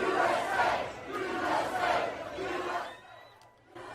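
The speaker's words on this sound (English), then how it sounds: "So obviously the crowd is really excited. You can hear people screaming." A stadium crowd at an Alabama versus Georgia football game roars and screams in surging waves, loud at first and then dropping off toward the end.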